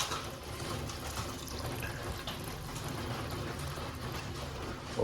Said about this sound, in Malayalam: ഇതാ നമ്മൾ കറക്റ്റ് വെള്ളം ഒഴിക്കട്ടെ